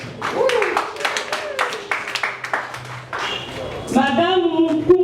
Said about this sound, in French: nous applaudissons pour les premiers témoins